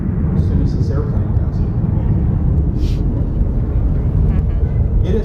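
A military airplane passing overhead at an air museum ceremony for an F-105 Thunderchief, a loud, steady roaring rumble that fills the clip without letup.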